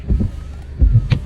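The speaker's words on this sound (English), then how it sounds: "This car's wipers make a very harsh noise." A car's windshield wipers with a fault drag across the glass in two or three harsh, low juddering strokes, loud and close, with short pauses between them.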